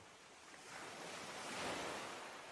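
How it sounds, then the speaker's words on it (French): Steady ocean waves breaking on a shore, a continuous broad roar of surf that swells slightly midway, with some wind noise and no voices. "la seule chose que tu entends, c'est le bruit des vagues tous les jours"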